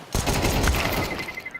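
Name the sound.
P250 pistol gunfire in video game Counter-Strike 2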